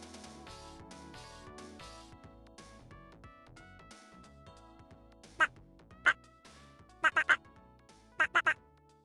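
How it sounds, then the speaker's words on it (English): Cartoonish duck quacks from a video game ring out in short bursts, a single quack, then quick clusters of two and three, loud over upbeat game music. "I love the quacks."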